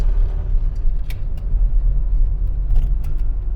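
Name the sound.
1979 Austin Allegro A-Series 1275cc engine driving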